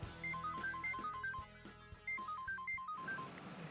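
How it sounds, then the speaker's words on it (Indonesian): A telephone rings with a repeating electronic melodic ringtone, two clear bursts of bright tones in a regular pattern, fairly close and without any talk over it. "Ntar ya, nyokap gue telepon."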